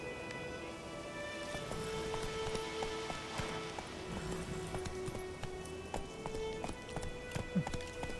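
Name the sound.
horse Roach's hooves clip-clopping in video game The Witcher 3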